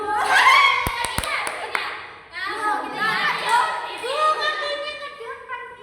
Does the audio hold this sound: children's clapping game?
yes